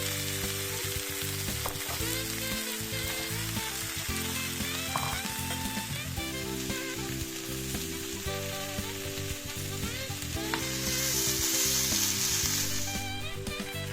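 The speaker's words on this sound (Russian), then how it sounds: "И все это отправляем в сковороду и обжариваем в течение 5 минут," Diced carrots, onion and celery sizzle steadily in a frying pan, a constant crackling hiss that runs the whole time over background music.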